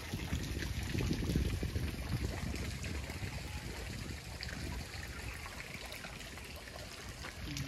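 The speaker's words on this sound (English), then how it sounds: "And they've got this whole water contraption thing here." Water splashes and trickles steadily through a kids' water play contraption in a botanical garden play area, a dense, continuous rushing at moderate level with no talking.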